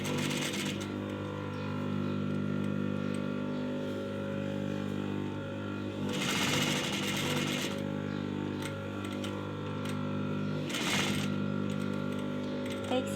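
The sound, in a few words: sewing machine stitching the neckline of a shirt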